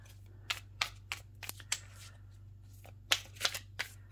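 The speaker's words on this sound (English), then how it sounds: "I felt, for some reason, it appropriate to shuffle on the camera" Tarot cards are shuffled by hand in a series of crisp riffling bursts at an uneven rhythm, close and clear over a low background hum.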